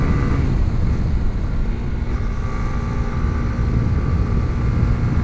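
Honda CB150X motorcycle climbing a steep mountain road, its engine a steady, loud drone heard close up throughout, mixed with rushing wind noise and no talk.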